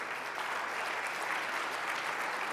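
Audience members at an NAACP presidential candidates forum applaud, producing a continuous, even roar of clapping from a large crowd.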